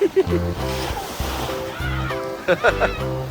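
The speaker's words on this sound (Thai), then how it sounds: "โอ้แต่คลื่นแรงนะคลื่นแรงอยู่" Strong sea waves splash and slosh on a beach in Jomtien, Pattaya, with bursts of surf breaking close by while people chatter and exclaim over the water.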